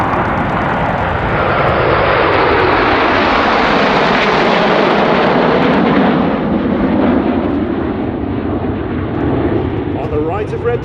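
RAF Red Arrows jets roar past in Concorde formation at an airshow, a loud, broad jet rush that swells and sweeps by overhead with the pitch falling as they pass, and a commentator talks over it.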